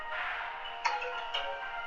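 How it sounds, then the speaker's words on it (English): A phone rings faintly with a tonal electronic ringtone that steadily warbles, accented by two brief brighter chirps, quiet and alone. "That was my phone."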